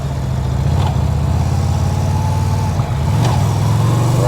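A car sold at a government auto auction drives off in first gear, its engine humming steadily and loudly close by with a low, constant drone and slight revving throughout, no voices.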